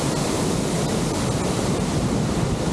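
The Coban Jahe waterfall in Jabung, Malang pours down in a strong flow, making a continuous, even, full rushing roar with no pauses or voices.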